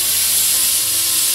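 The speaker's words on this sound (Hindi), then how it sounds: "पहली सीटी हम बहुत तेज आंच पे लगाएंगे।" A pressure cooker on high flame lets out a loud, steady hiss of escaping steam as its first whistle blows while sprouts cook. The sound stays continuous and close, with no voices.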